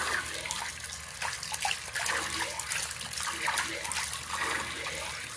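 A kitchen sink tap runs in a steady broadband rush while an aquarium filter sponge is rinsed and squeezed under it. Splashes and gurgles shift close by throughout.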